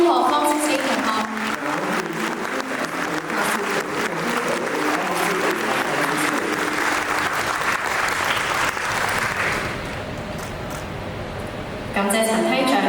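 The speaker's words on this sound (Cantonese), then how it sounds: "請大家以熱烈嘅掌聲恭賀 Form 6A 同學" Audience at a secondary school graduation ceremony giving warm applause for the Form 6A graduates, dense sustained clapping that fills the hall, easing off briefly before surging again near the end, with some voices under it.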